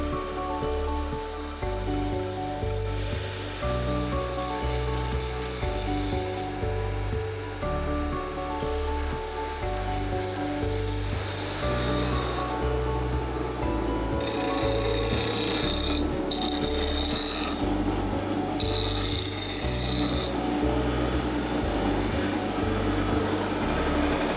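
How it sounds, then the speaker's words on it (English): A metal keychain part is sanded on both surfaces and its edges ground, giving a continuous rasping, rubbing tool sound in repeated strokes. No voices are heard. "The next step is to sand both surfaces and then grind the edges."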